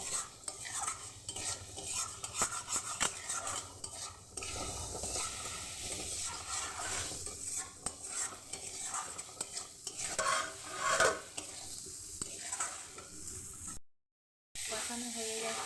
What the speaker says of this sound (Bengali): জলটা দিয়ে ভালো করে কষিয়ে নেব।